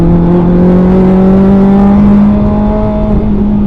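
A car on the Mondello track drives at speed with a loud, close engine drone in the cabin, its pitch climbing gradually as it accelerates and then levelling off, with no voices.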